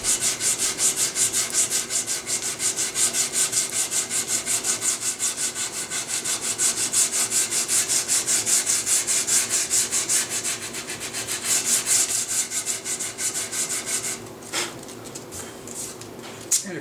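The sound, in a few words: sandpaper sanding a wooden surface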